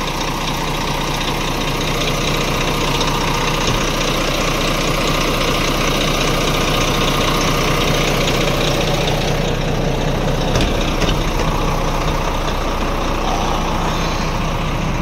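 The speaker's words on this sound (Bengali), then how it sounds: "এটা হচ্ছে B11 ইঞ্জিন।" Volvo truck with a B11 engine idling, a constant low diesel drone with dense mechanical clatter running unbroken and close, no voices.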